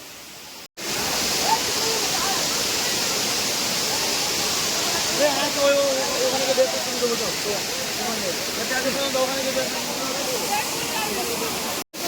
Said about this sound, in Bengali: উপর থেকে ঝর্নার যে মানে পানিটা আসছে